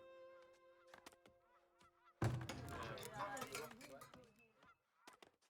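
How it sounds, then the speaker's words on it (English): Geese in a survival city-building game honk in a few clear, spaced calls, then a sudden burst of dense ambient game noise takes over and the calls are buried. "Geese."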